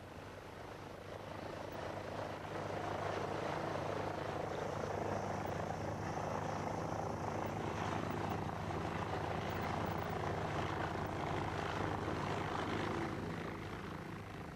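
Replica of a 1912 military training plane flying, a steady droning engine and propeller roar that fades in, holds loud and even for several seconds, then eases slightly at the end, with no voices.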